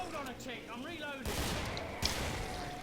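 Cannon artillery fire in Killing Floor, two loud noisy blasts following a stretch of quieter rising and falling tones and a faint voice, each blast sustained with a rough, rumbling tail.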